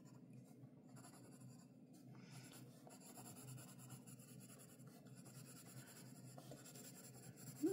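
Lyra highlighter pencils colouring on paper in a scribble book, a faint, continuous scratchy shading with steady back-and-forth strokes, close and quiet under soft background hiss.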